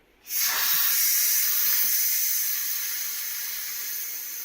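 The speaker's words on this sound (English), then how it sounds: "I'm going to flip the nozzle, the valve, over to exhaust to let the rest of the steam come out" Steam rushes from an Instant Pot's pressure valve flipped to exhaust after cooking hard-boiled eggs, a loud steady hiss that bursts in abruptly and then slowly fades over several seconds.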